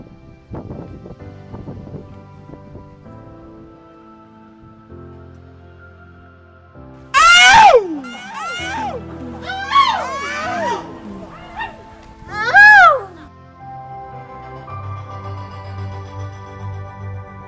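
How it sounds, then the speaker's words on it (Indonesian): Loud shouted koa calls from an Indonesian village community signal that the main water tower tap has been opened. Several long, wavering vocal cries rise and fall over a quiet outdoor background. "Pekikan ini adalah koa. Koa menjadi media komunikasi masyarakat, sekaligus sinyal bahwa keran tower utama telah dibuka."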